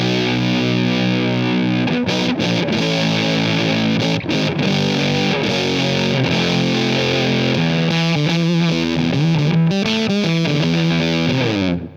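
Electric guitar driven through a fuzz pedal with the fuzz level pulled back slightly, a thick, saturated sound with held chords and busy riffing played continuously and loud, no voices.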